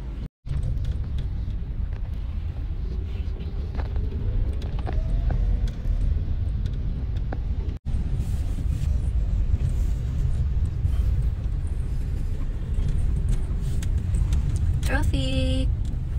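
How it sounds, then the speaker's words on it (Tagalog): Continuous low rumble of everyday road traffic in the Philippines with passing vehicles, fairly loud and close, with a brief horn-like tone near the end. "Everyday traffic."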